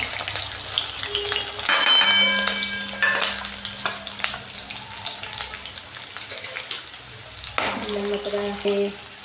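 Green chillies frying in hot oil for a Gujarati mixed vegetable sabzi, a steady close sizzle with stirring clatter and scraping through the pan, brief louder bursts as the spoon moves.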